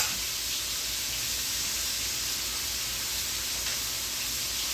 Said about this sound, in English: I just want to sear it, get it tender